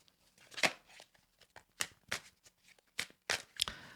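A deck of cards being shuffled by hand, close and soft, in quick irregular bursts of riffling and flicking snaps with brief pauses, no talking.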